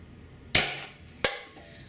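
Paintball marker firing 0.68 caliber soft training rounds, two sharp close pops about 0.7 seconds apart, each with a brief hissing decay, over quiet background.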